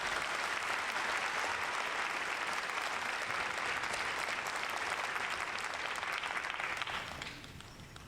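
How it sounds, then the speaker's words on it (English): A crowd applauds drill sergeants at an infantry graduation ceremony at Fort Benning. The clapping is loud and sustained and fades near the end. "Let's give our drill sergeants a round of applause"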